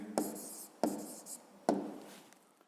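Three separate strokes of a pen writing a math answer on paper, each a crisp scratch that fades out, spaced evenly and close up, with quiet between them.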